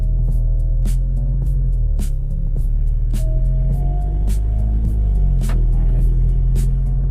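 An Alfa Romeo Giulia 2.0T with a Stage 2 tune drives with the windows open, its deep steady engine drone shifting slightly in pitch, punctuated by repeated sharp ticks and clicks from the cabin.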